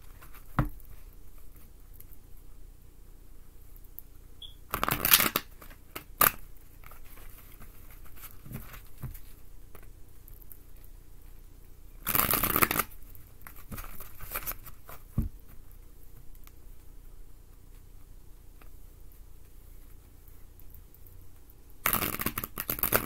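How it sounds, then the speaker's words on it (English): Tarot cards are shuffled in short, crisp riffling bursts, three distinct rounds spaced apart with faint rustling and handling in between, fairly quiet and close. "Good shuffle."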